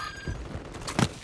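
Gunfire in Call of Duty MW3 deathmatch: a couple of muffled thumping shots, the last one loudest near the end, over low in-game ambience.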